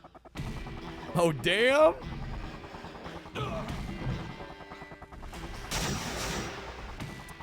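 Bursts of gunfire and crashing impacts from a video game shooting section hit hard and loud amid swooping game effects, while a person exclaims over the top.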